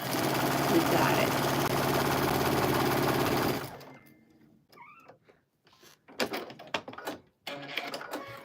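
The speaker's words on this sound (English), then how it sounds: "My sewing machine is saying enough with the sewing." A sewing machine whirs steadily for a few seconds, then stops, leaving quiet clicks and handling sounds close by.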